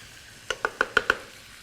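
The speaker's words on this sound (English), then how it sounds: "so continue to constantly stir and toss that shrimp." Shrimp being stirred and tossed in a pan while cooking for a buttery shrimp and corn orzo; five quick, sharp utensil clinks sound close together, loud against a quiet background.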